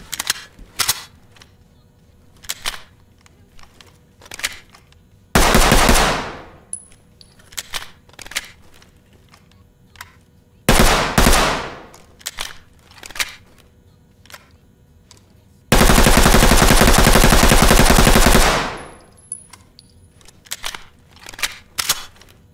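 MP5 submachine gun fire from the Ready Or Not game trailer comes in loud, dense bursts, three long strings of rapid shots separated by single sharp shots and clicks, close and punchy.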